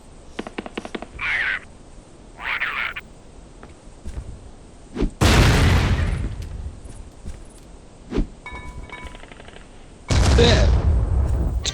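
Gunfire and grenade blasts in the video game Vivisector: Beast Within, with a rapid burst of shots, short calls, then two heavy booming explosions with long rumbling tails, loud and without speech.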